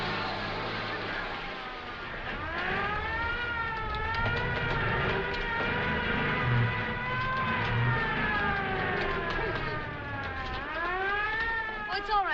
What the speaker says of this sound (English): Don't you hear that siren? That means maneuvers are starting.